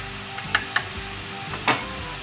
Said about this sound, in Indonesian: kemudian saya masukin ikan fillet, ditumis ya